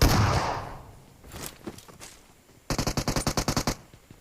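A rapid burst of about ten evenly spaced gunshots in PUBG Mobile, loud and close, following a quieter stretch of muffled shots and scattered thumps.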